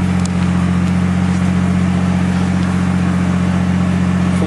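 A TRD Toyota Chaser idles through a genuine Kakimoto full exhaust system, a loud, steady, deep engine drone close to the microphone with no change in pitch.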